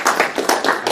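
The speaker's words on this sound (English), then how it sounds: "I'd like to get a round of applause for the panelists." An audience claps for the panelists at a women veterans panel at a college, a short burst of brisk, uneven handclaps from a small crowd, fairly close and loud.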